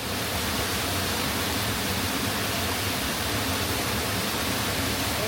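Water in Rock Creek rushes past nearby in a steady, dense wash that stays loud and even throughout, with no voices.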